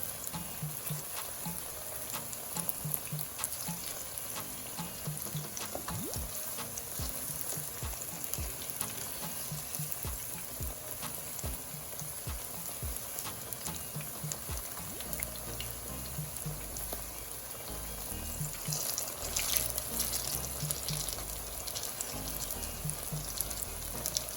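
Plantain slices fry in a pan of hot oil, giving a steady, dense sizzle with bubbling crackle and occasional soft clinks and scrapes as pieces are flipped, close up with no speech.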